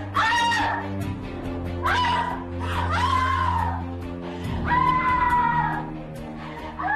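A woman in labor in a hospital maternity ward cries out in pain in several long, strained wails with short gaps, loud and close, over a steady low hum from the room.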